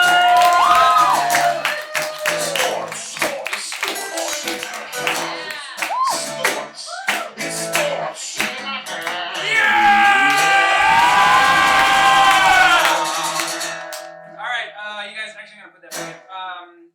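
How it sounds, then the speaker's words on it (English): A late-night studio audience at a live show roars with cheering, whoops and clapping that swell loudly, dip, then surge again before fading toward the end, with a host's amplified voice shouting over the crowd. "I want to get the round of applause going. I want to get it very loud in here."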